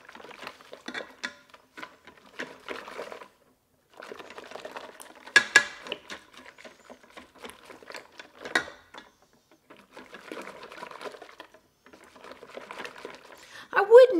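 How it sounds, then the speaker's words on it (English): Homemade eggnog being whisked in a Ninja Foodi pot: steady, rapid scraping and clinking of a whisk against the pot in bursts, with brief pauses and a louder clatter near the end. "So I'm gonna just whisk and whisk."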